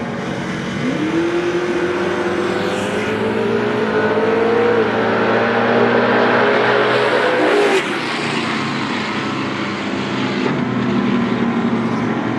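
Camaro funny car out of Tulsa making a drag racing run, a loud sustained engine roar with rising pitch sweeps through the pass, then a sudden drop as the throttle lifts and the motor settles into a lower drone.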